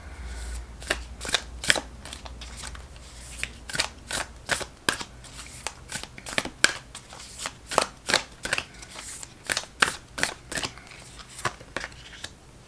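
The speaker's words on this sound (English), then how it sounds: "So I'm just going to shuffle." Oracle deck cards being shuffled by hand, a steady run of crisp riffling slaps and flicks, close and fairly quiet, with no talking.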